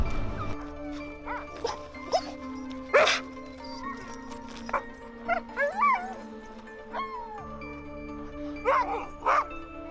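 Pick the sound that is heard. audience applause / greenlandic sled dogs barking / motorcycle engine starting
greenlandic sled dogs barking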